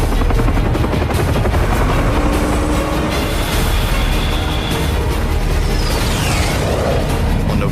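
Attack helicopters over Vietnam war footage, a loud, continuous rotor drone with dense low rumble throughout, joined late by a rising aircraft whine overhead; no talking.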